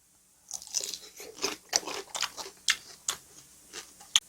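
Shrimp being eaten up close, with a series of crisp crunching bites and chewing that come in irregular bursts, loud and close against a quiet background, with no talking.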